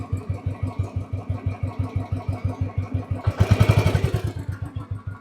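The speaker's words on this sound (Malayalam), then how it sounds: "ഈ ഒരു മൂളിച്ച ഈ ഒരു സൗണ്ട് എന്തായാലും പുതിയ മോഡൽ വണ്ടിക്ക് കിട്ടത്തില്ല" A Royal Enfield motorcycle engine runs after a kick start with a steady, deep, rhythmic thump. It swells briefly louder as the throttle is blipped, then settles back to an even idle, close by.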